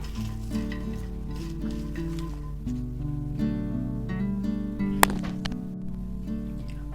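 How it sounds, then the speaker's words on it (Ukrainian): Salted red perch pieces stirred in a bowl, a steady close wet squelching and scraping with one sharp clink partway through. "Обминати не буду, просто ось так перемішаю."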